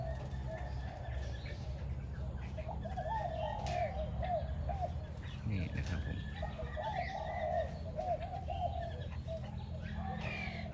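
A decoy dove hung in its cage coos in repeated soft, rolling phrases over a steady low background hum, with faint chirps scattered around; moderately distant and fairly quiet.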